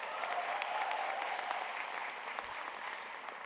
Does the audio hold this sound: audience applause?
yes